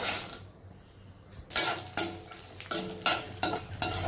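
Cashews stirred in hot ghee in a pan for dry fruit laddoo, a soft sizzle under repeated scraping strokes of a spoon against the metal, several distinct stirs in the second half, close and fairly loud.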